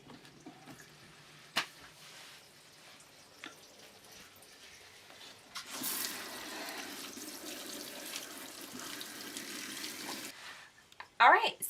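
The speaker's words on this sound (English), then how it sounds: "So now our rinse cycle is done and we're gonna drain it and rinse off some of the bubbles." Rinse water drains from a Giantex portable compact twin tub washing machine as a faint, steady rushing hiss lasting several seconds, with quiet background noise and a brief clatter at the end.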